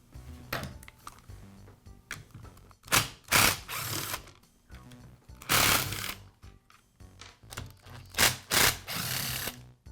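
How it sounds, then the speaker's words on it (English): Clutch cover and upper shaft assembly being taken off a Troy-Bilt string trimmer: clattering metal and plastic parts, ratcheting and scraping in loud bursts with short pauses, close up and without speech. "I'll begin by removing the clutch cover and upper shaft assembly from the trimmer"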